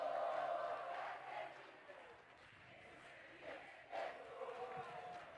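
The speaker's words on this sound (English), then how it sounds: "The crowd are really into it." The crowd at a women's over-45 field hockey World Cup final in Cape Town, Argentina against England, gives a distant, faint roar of cheering and shouting that swells and fades in the open air.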